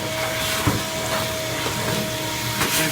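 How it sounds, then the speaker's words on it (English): A wire wheel grinds steadily over the body of a 1956 GMC truck, a continuous loud hissing abrasion with a constant motor whine and brief scraping bursts, no voices. "Next step will be able to go over with the wire wheel."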